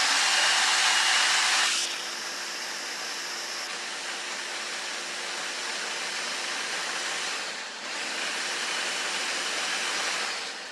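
A kitchen blender grinds ingredients for a purple-hued mixture in a steady, loud whirring roar that drops in pitch partway through, with a short dip before rising again near the end.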